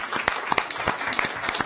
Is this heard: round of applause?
yes